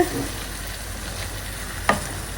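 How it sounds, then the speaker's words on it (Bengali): Meat stir-fried in a pan, a steady low sizzle with scraping stirs and one sharper clatter near the end, close and fairly quiet, no voices. "সেটাকে একটু ভালো করে কষাই মানে কষানো মানে ভাজা নাড়াচাড়া নাড়াচাড়া করে ভাজবো"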